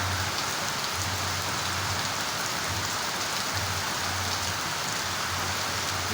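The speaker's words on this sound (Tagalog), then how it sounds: "Grabe ang ulan." Heavy typhoon rain pours down in a steady, dense roar with a low intermittent hum beneath it, continuous and close throughout with no voices.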